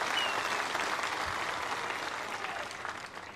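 An audience at a political rally in Indapur, Maharashtra, applauds during Harshwardhan Patil's speech; thick, continuous clapping from a large crowd that slowly thins toward the end.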